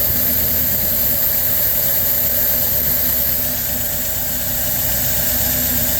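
A steady engine of an old LaSalle car with fuel starvation idles continuously at close range, a low rumbling drone with a constant mechanical vibration and no voices.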